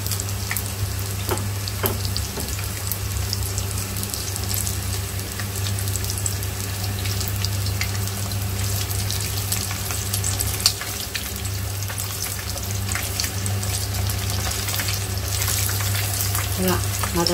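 Minced meat and onion frying over high heat in a wok, a steady dense sizzle running throughout at even loudness with faint scraping stirs and occasional clinks.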